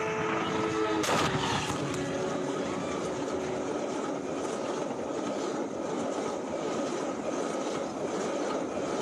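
Railway train in a viral Indonesian accident, heard as a steady, loud, broadband rumble of rolling stock throughout, with a brief sharper burst near the start.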